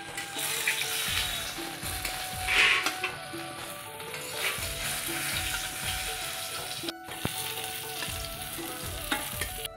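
Eggplant slices fry in oil with a steady, close sizzle, broken by occasional stirring scrapes and light utensil clatter.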